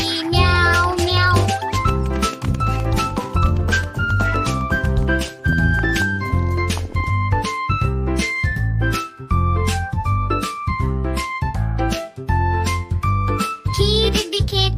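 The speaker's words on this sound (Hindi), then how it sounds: "बिल्ली करती म्याऊ म्याऊ" Cheerful Hindi nursery rhyme for children about a cat, with bouncy tinkling instrumental music and sung meow-meow refrains sung in a repeated rhythmic pattern, loud and continuous.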